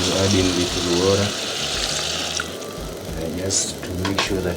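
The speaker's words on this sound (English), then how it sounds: "Add in little water," Water is poured into a pan of chicken cooking with leek, cardamom and salt, a steady gushing fill carried under a voice and tonal background sound.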